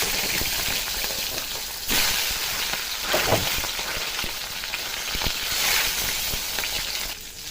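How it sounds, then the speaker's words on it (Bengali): A whole catla fish head, rubbed with salt and turmeric, fries in hot oil with a loud, dense hiss and spatter that holds steady and swells briefly a few times. "মাছের মাথাটাকে ভেজে নেব"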